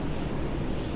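Stormworks storm with maximum wind and a tsunami, a dense, continuous roar of gusting wind and crashing waves filling the scene loudly and evenly, with no pauses.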